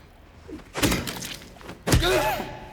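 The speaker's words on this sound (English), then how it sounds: "I'm gonna smack him a few times just in case." Two heavy melee strikes on an enemy in the Silent Hill 2 Remake video game, each a loud dull thud with a crunching impact, about a second apart.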